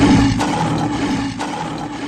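A lion roars into a well as a story sound effect, a loud, low, rumbling roar at the start that trails off into a reverberant echo.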